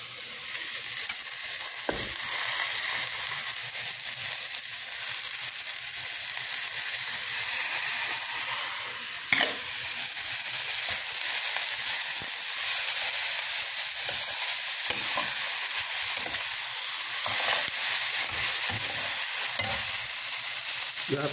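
Noodles fry with pork in a hot pan, sizzling and hissing continuously. Occasional scraping knocks from stirring break through the sizzle over the long, even stretch.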